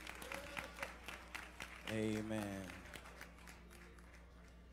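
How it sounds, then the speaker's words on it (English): A church congregation at a Sunday morning service claps in praise, the clapping brief and fairly soft beneath a speaking voice and a short sung or drawn-out vocal phrase. "just give God one more hand clap of praise"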